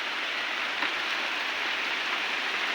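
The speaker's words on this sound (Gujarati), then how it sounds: "બહુ સારી મેર કરી દીધી ભગવાને વરસાદની." Steady rain falls in a village, a dense, even hiss of drops continuing without a break and fairly loud throughout, with no voices or other sounds standing out.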